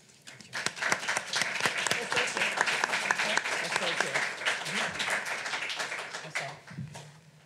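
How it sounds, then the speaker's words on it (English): An audience at a Latinx poetry gathering gives poets and speakers a sustained round of applause, many hands clapping steadily for several seconds, fairly close and full, with a few voices underneath. "I hope you'll join me in giving tonight's incredible lineup of poets and speakers another round of applause"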